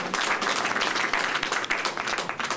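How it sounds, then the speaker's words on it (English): An audience applauds at a New York City schools event, a dense, sustained round of clapping from many people, loud and even with occasional sharper claps, no speech over it. "Brandon, let's give him a round of applause"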